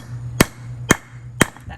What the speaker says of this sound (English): Sometimes if we can't get it with the chisel and the hammer, we just take the good old-fashioned hammer way to it